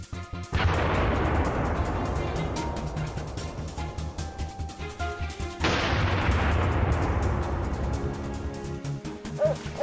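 A rifle shot fired at wild boar in a forest, two loud booming blasts a few seconds apart, each rolling out into a long fading echo, with no voices over them.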